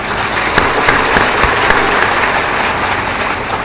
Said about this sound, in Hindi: तालियां भी दमदार बजाया करो।